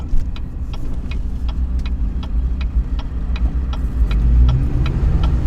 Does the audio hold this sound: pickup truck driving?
yes